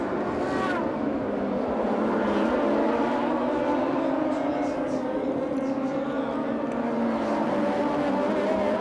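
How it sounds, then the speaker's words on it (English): Emzone RCC race cars at the 2025 Grand Prix de Trois-Rivières street race scream past at high revs, with engine pitch rising and falling through gear changes. A commentator talks continuously over the steady, loud roar. "These cars also sound fantastic. They sound like race cars. They do have a good pitch to them. High revving pitch."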